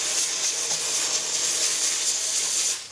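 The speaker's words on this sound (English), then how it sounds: "Hopefully, you've got a bit of a steam leak." A steam leak on a model boiler under repair gives a loud, steady, bright hiss that runs unbroken for several seconds before easing off at the end, with no talk.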